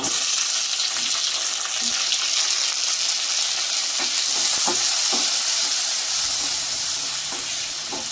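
Tomatoes fry in a pan with a loud, continuous sizzle, broken by repeated stirring scrapes and light knocks of a spoon against the pan.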